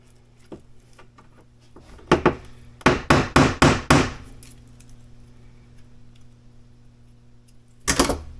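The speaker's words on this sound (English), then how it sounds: "I have this little hammer. I think it's like a jeweler's hammer or something." A small jeweler's hammer taps a hard surface in a quick run of about five sharp, close strikes, preceded by a single hit and followed by another after a pause, over a faint steady hum.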